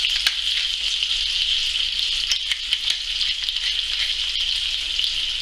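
Pheasant browning in a hot pan for a Normandy pheasant dish, giving a loud, steady, close sizzle and crackle that carries on without a break, with faint rattles now and then.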